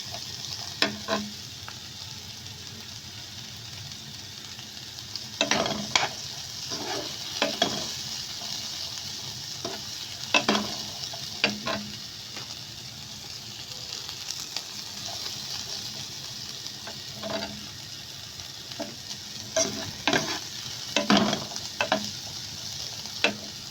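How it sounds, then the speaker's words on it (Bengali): Mixed vegetables and beans stir-frying in a pan for restaurant-style vegetable fried rice, a continuous sizzle broken by repeated sharp clinks and scrapes of a spatula tossing the food. "তো এগুলো ভাজা হয়ে গেলে আমি বাকি সবজিটাও ভেজে নিব কারণ বিনসটা একটু ভাজতে হবে"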